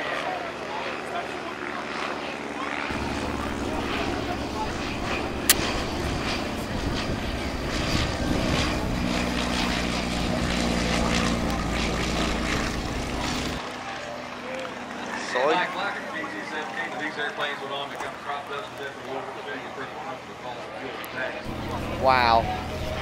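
A light trainer propeller plane's engine drones loudly and steadily at an airshow, then eases off as it fades; voices talk over and after it.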